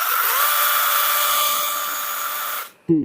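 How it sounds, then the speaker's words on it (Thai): A cordless, battery-powered OSUKA 6-inch electric chainsaw runs at a steady, loud, high-pitched motor whine for over two seconds, then cuts off abruptly, followed by a brief low thump. "สำหรับเลื่อยโซ่ไร้สายแบตเตอรี่ ของโอซุกะตัวนี้นะครับผม"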